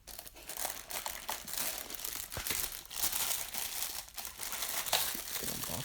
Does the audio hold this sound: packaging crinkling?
yes